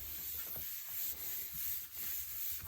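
Paper rubbed by hand over a spray-ink sandwich, a steady soft scuffing hiss that swells and eases in several strokes, close and alone.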